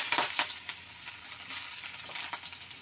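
Sliced onions and bay leaves sizzle in hot oil for an Assamese mutton curry, a steady close frying hiss broken by a few sharp stirring scrapes, with no voices.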